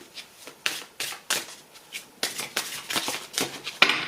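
Tarot cards riffled and shuffled by hand in a quiet room, a run of crisp papery bursts repeating at an irregular, quickening pace, close and fairly soft.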